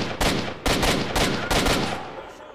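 A sawed-off shotgun fires in S.T.A.L.K.E.R. Shadow of Chernobyl: four loud, close blasts in quick succession, each with a sharp crack followed by a short, booming tail.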